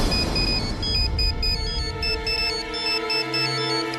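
A phone rings with a repeating electronic ringtone melody, steady and fairly quiet over a low background hum, with no one speaking.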